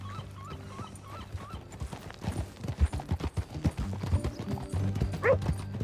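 Horse hooves clop in an uneven rhythm in the video game Red Dead Redemption 2, with a brief whinny and some chirping birds in the background.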